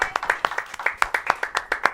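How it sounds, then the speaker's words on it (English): Applause for a guest at a local El Monte talk-show taping: a few hands clapping in a loose, uneven rhythm, close and fairly thin, about a dozen sharp claps over two seconds. "Round of applause for Maggie"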